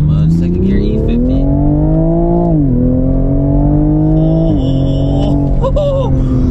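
A Toyota Supra engine revs hard in second gear, its pitch climbing steadily through two upshift-like dips, loud and close, with a voice speaking over the engine note.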